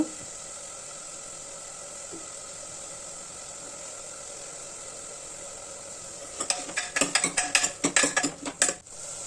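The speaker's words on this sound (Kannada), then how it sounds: "ಹಚ್ಚಿಟ್ಟಿರೋ ಅಂಥ ಟೊಮೆಟೊನ ಕೂಡ ಹಾಕ್ಕೊಂಡು ನೀಟಾಗಿ ಮಿಕ್ಸ್ ಮಾಡಿಕೊಂಡು ಫ್ರೈ ಮಾಡ್ಕೊತಾ ಇದ್ದೀನಿ" Tomatoes fry in a pan for a home-style saaru. A long stretch of quiet, hissing background gives way to a burst of rapid, clattering spoon-against-pan stirring in the last few seconds, close and sharp.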